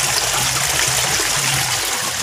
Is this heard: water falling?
yes